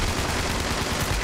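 Gunfire in the post-apocalyptic shooter Fallout 76, a dense, loud burst of rapid shots that blur into one continuous rattling roar for about a second, with no voices.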